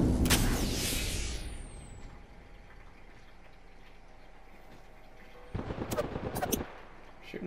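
Video game gunfire bursts out loudly at the start, then a rapid volley of shots returns near the end after a stretch of quieter ambient rumble.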